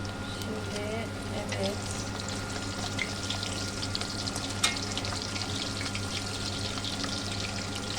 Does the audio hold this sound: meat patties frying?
yes